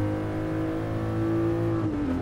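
A Toyota Supra's engine in Gran Turismo Sport drones at steady high revs with strong harmonic tones, its pitch dipping near the end as if shifting or lifting off, loud and close with no talk.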